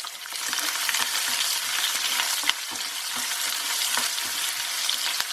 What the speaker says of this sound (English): we're going to cook the onions till they turn just slightly translucent